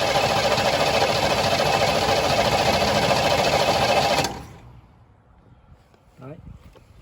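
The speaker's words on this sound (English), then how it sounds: "We're hoping it'll sit here and idle from what we poured in the tank" The engine of a 1977 Chevy Nova idles loudly and steadily for about four seconds. It then cuts out abruptly, leaving quiet room noise and a brief thump.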